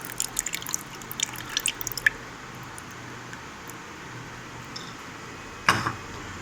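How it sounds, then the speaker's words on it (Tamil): Lemon juice drips into a garlic and salt shawarma marinade as a quick run of small, close patters, followed by a quieter pause and then a single louder splash. "இதோட பார்த்தீங்கன்னா லெமன் ஜூஸ் சேர்த்துக்கலாம்"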